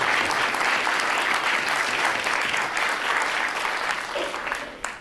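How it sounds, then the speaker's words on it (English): A large gala audience at a Los Angeles County law library event applauds loudly and continuously, a dense, even roar of clapping that tapers slightly at the end. "a round of applause is in order for them"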